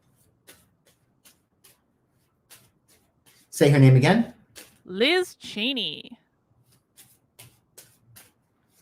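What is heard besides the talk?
shuffling tarot cards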